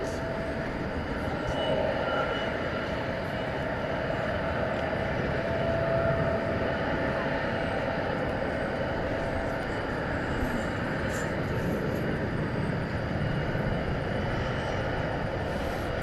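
An American Airlines MD-80 Super 80 jet at DFW Airport at night, its engines giving a steady, broad roar that holds fairly loud and even throughout, with no clear voices over it.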